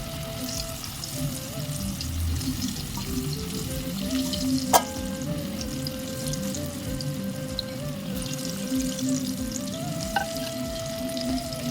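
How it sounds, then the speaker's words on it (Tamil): Raw banana kola urundai balls deep-frying in hot oil, a continuous bubbling sizzle with a faint tonal hum beneath and an occasional sharp clink, steady and close with no voices. "கொஞ்சம் சின்ன சின்ன பால்ஸாக உருட்டி நம்ம எண்ணெயில் பொரிச்சிடலாம்"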